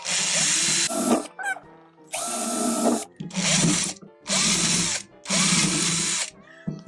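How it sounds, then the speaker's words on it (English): A power drill whirs in five or six short bursts, loud and close, with brief pauses and faint handling noises between runs. "I'm just gonna drill through these."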